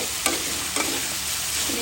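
Dried loitta fish fries in a pan with a steady, close hiss of oil, broken by a couple of sharp stirring knocks against the pan.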